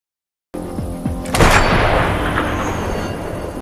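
A sniper rifle shot in a war film fires with a sharp crack, followed by a loud boom that rolls into a long, dense rumble lasting several seconds.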